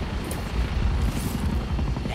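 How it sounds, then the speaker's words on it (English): Constant low, heavy helicopter rotor rumble in the video game Spider-Man 2, with a dense pulsing thump, steady and fairly loud, no talking. "I hear a helicopter."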